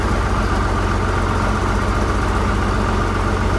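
A 1973 White 1955 tractor engine idles close by, a steady low rumble with an even throbbing pulse that holds constant throughout, no voices over it.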